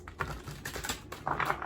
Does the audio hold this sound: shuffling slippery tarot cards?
yes